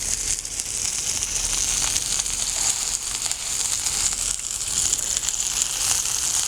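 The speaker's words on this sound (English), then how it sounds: "And I do that because I like the sizzle." A hamburger patty frying in a pan gives a steady, close, crackling sizzle with a bright hiss, unbroken and even for the whole stretch, no voices.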